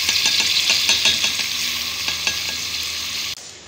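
Onions fry in hot oil for chicken tikka biryani with a loud, close, steady sizzle, punctuated by rapid light stirring taps, before the sound cuts off abruptly near the end.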